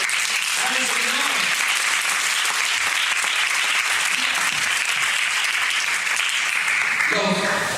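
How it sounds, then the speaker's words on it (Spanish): A church congregation applauds, a dense, steady wash of clapping that fills the space continuously, with faint voices mixed in and a preacher's voice returning at the very end. "Dale un aplauso al Señor."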